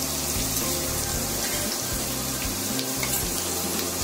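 Jackfruit curry with spices frying in a pan, a steady loud sizzle crackling throughout with occasional stirring scrapes and no talk over it.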